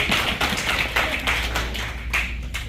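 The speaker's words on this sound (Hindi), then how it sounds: "एक बार तो तालियां जोशी जी के लिए बजा।" An audience claps for a poet at a Hindi comic poetry gathering in New Jersey. The claps are a dense, steady patter, fairly close, and thin out slightly toward the end.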